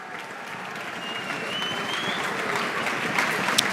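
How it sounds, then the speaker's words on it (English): Audience applause at a spring band concert, a dense, steady wash of many hands clapping at moderate volume throughout, with no voices on top. "I appreciate the continuous clapping"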